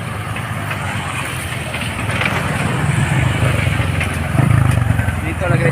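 A Ducati motorcycle engine rumbles steadily nearby on a Cebu ride, a loud, continuous throaty drone that swells slightly partway through, with voices talking over it.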